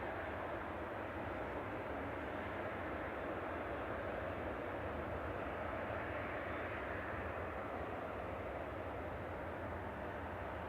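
SunExpress airliner in special livery at Manchester Airport, a steady broad jet engine roar holding at a constant level throughout, moderately distant with no voices.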